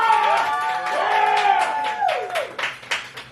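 Live crowd at a poetry night in the Rialto Theatre bursts into steady applause and cheering for a featured poet, claps and whoops filling the room, with a sustained held tone under the first two seconds before the clapping thins out.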